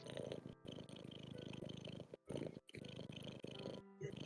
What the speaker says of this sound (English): I feel like it's normally Tibble that's purring so loud